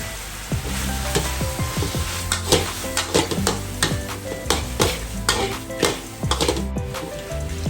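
Crispy fried catfish with Thai eggplant and fresh holy basil being stir-fried in a pan, a busy continuous sizzle with repeated scraping and clinking of a utensil against the pan, close and loud with no talk.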